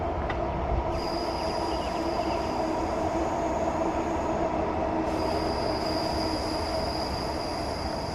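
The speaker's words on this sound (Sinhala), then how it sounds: "මේ යන්නේ මෙට්‍රෝ එක." A metro train rolls past close by, a continuous loud rumble of wheels on rail with high, sustained squealing tones from the wheels, steady throughout without any talk.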